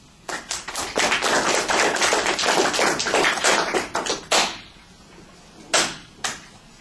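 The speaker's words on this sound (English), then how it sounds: "The slow clap sounds sarcastic" Slow, sarcastic clapping from an audience after a speech, a steady run of sharp claps that thins out into a few spaced, isolated claps near the end.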